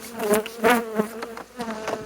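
A dense, steady hum of honey bees buzzing in a hive with a honey super and freshly drawn wax comb, close and continuous, wavering slightly in pitch without any voices.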